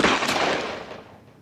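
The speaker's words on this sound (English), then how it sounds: "I just heard gunfire in the area." A single loud gunshot during a police confrontation with a man, a sharp nearby crack followed by a decaying rumble.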